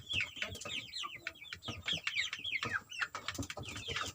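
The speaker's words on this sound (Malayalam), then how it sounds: "എൻ്റെ കോഴിക്കുഞ്ഞുങ്ങൾ നിങ്ങൾക്ക് ഇഷ്ടമായിനാ?" Young chicks kept as backyard pets cheep and peep in a busy, overlapping chorus, with many short chirps crowding together and no voices heard.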